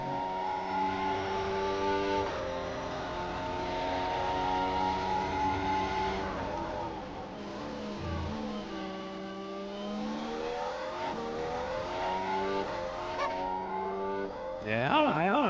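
Formula 1 race cars overtaking in F1 Manager 2024, with several overlapping engine notes whining and shifting pitch as the cars pass, continuous throughout, with speech present.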